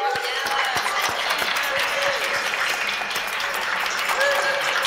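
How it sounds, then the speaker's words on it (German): Conference attendees at the AZK event applaud warmly, a steady wash of clapping with a few sharper close claps near the start and faint voices mixed in. "wie wäre es mit einem schönen Applaus für James Corbett?"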